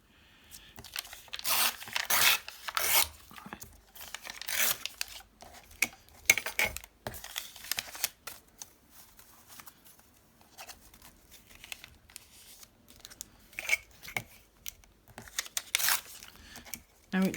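Paper torn by hand to trim pieces small enough to fit inside handmade journal tag matchbooks, giving repeated close, rough ripping bursts in short irregular strokes with pauses between them.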